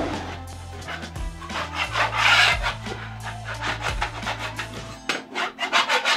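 Scraping a drywall repair at home, with rough, repeated rasping strokes in an uneven rhythm, close and fairly loud against a low background hum, with no talk.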